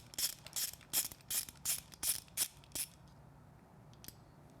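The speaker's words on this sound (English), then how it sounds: "Using our T20, remove the clutch switch." A T20 driver turns out the clutch switch screw on a Triumph Street Twin, giving eight quick ratcheting clicks in a steady rhythm, close and quiet, then a single faint click after a pause.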